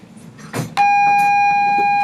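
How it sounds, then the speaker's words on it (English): A single doorbell chime rings out loud and sustained after a brief muffled thump, holding its bright tone to the end. "Bell ringing, perfect timing"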